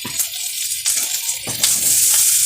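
Tomatoes, garlic, curry leaves and tamarind frying in a pan for tomato thuvaiyal, with a steady sizzle and a few scraping stirs that grow a little louder toward the end.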